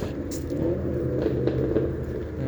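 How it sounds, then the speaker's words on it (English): A yellow car's engine rumbles steadily and loudly nearby, with a slight rise in revs, a continuous low roar with no one speaking. "in a yellow car boosted his engine really loud"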